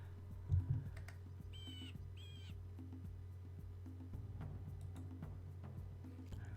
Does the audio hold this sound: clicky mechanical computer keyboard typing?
yes